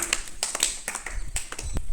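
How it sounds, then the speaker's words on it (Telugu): Young children in a classroom clapping together for a classmate, a short burst of quick, uneven claps from several hands close by. "క్లాప్స్ కొట్టండి విఘ్నేష్కి."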